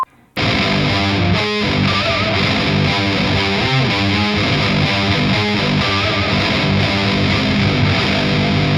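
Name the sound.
electric guitar through Valeton GP200 LT octave effect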